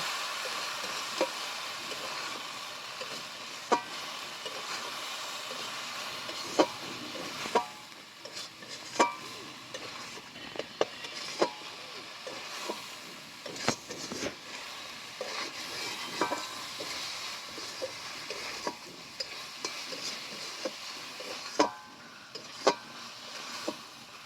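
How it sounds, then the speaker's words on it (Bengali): Masala with ground coriander and kasuri methi is stir-fried in a pan for Bengali egg tadka, a steady sizzle broken by repeated scraping stirs and sharp spatula taps over about twenty-four seconds. "দিয়ে মশলাটা ভালোভাবে কষে নেব"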